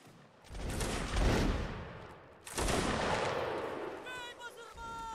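Musket volleys boom in a Napoleonic Wars line-battle video game as two long, rolling bursts of massed gunfire, each building and then fading, with voices speaking near the end.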